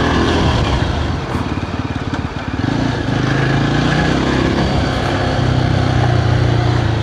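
A vehicle engine labors steadily uphill on a steep road toward a tea plantation viewpoint at Varatumedu in Vagamon, a loud continuous drone with throttle rising and falling and no let-up for the whole stretch.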